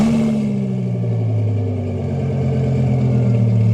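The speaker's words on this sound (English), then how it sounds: "All right, rev it for science!" A 1300HP twin-turbo Audi R8 revs loudly up close, its deep engine drone holding steady with a slight dip and swell in pitch, and no talking over it.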